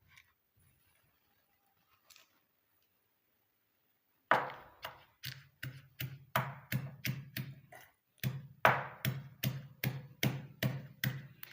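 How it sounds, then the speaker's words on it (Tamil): Omavalli leaves pounded in a mortar, a quiet start followed by a steady run of about twenty close, evenly paced thuds, each a short woody knock with a brief pause midway. "இப்போ இதில் கொஞ்சம் கொஞ்சமாக போட்டு நம்ம இடிச்சுக்கலாம்"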